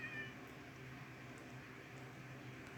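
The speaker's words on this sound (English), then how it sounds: "Yes, cats." Cats in a Minecraft survival game meow faintly and briefly at the start over low, steady game ambience.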